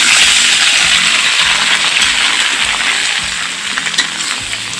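Tomatoes dropped into hot oil with browned garlic, dried chillies and panch phoron for a Bengali tomato pickle, giving a loud, close, continuous hiss and sizzle that eases slightly toward the end, with no voices.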